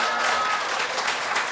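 Steady, dense applause from an audience at a political forum and debate held at a lawmaker's office, a continuous wash of many clapping hands throughout the short stretch, with no talking.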